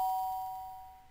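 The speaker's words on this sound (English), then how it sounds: "I was brought back to reality by the sound of the doorbell" A single doorbell chime from the Danganronpa: Trigger Happy Havoc video game rings out clean and bright, then fades quickly.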